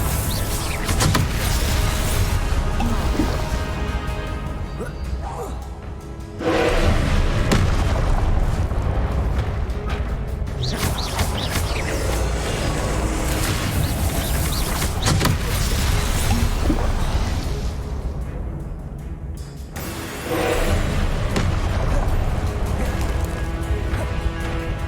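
Spells cast in Hogwarts Legacy, a long run of loud whooshing, crackling and booming magical effects in bursts separated by brief lulls, with little speech.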